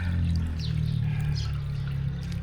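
Water flowing and dripping from a DIY-repaired household drain pipe, a steady pouring trickle with scattered higher drips over a low hum, close and continuous.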